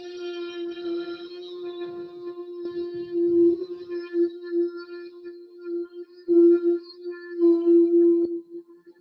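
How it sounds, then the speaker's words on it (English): A conch-like sound is made from the throat during pranayama breathing practice, heard as a sustained, steady humming tone held close and fairly quiet, with slight swells in loudness. "this is the sound of the conch that you are creating from the throat"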